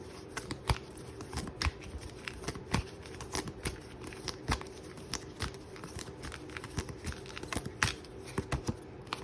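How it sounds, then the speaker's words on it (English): Mandala oracle cards are shuffled by hand, giving a close, continuous run of crisp slaps and riffling clicks at an irregular, busy rhythm. "I'm going to pull a mandala card for you, group 3."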